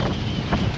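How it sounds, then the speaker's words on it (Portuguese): Strong wind gusting around a sailboat with its foresail down and mainsail triple-reefed, gusts near 29 knots, roars steadily and close into the microphone as a broad, constant rush with no talk. "o vento já está dando rajada aqui de 29 nós"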